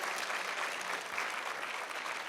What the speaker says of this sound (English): give him an applause right now